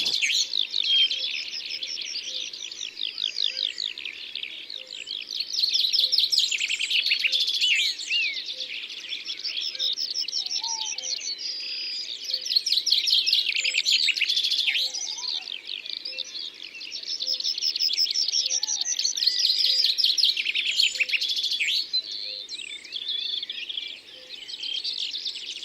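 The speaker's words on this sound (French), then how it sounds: "Chante, chante, ce pinson des arbres." A common chaffinch sings repeated bright, descending trilled phrases in a suburban nature area in Côtes d'Armor, Brittany, with other birds chirping faintly in the background and no talk.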